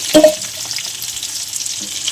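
Potatoes fry in oil in a wok with a close, steady sizzle, opened by a short clatter from stirring and followed by a faint second knock.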